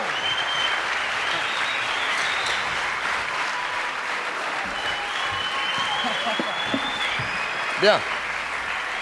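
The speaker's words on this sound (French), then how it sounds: "Nos deux amis à cheveux grisonnants qui arrivent, que vous pouvez applaudir, les voici." A TV studio audience applauds two grey-haired guests as they arrive on a French variety show, with steady sustained clapping throughout and a brief voice near the end.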